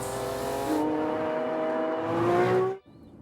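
A Lamborghini Countach's V12, with some electric assistance, revs up in a rising, strained howl that climbs through the gears and then cuts off abruptly into quiet.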